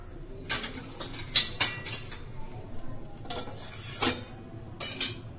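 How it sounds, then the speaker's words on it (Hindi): A metal lid set over a pot of chana dal pakodi curry, with several bright clanks and clinks of metal cookware against a low background hiss of simmering, no talking. "तो अभी हम इसे थोड़ी देर के लिए और ढक देंगे"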